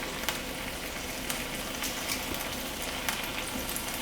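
Pork tenderloin searing and browning in a hot pan, a continuous close sizzle with scattered sharp pops and crackles, fairly quiet and unaccompanied by voices.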